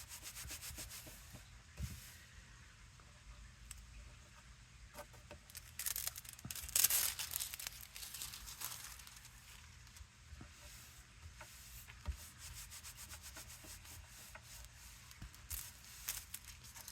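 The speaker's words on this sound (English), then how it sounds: "I'm just rubbing it and it's sticking to it." Transfer foil rubbed by hand onto glue-pen lines, producing soft, continuous scratchy rubbing and light friction hiss with small clicks, close and fairly quiet, no talk.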